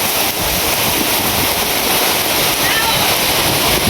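Dense, steady roar of heavy nighttime storm rain pouring continuously, loud and close, with no pauses or talk over it.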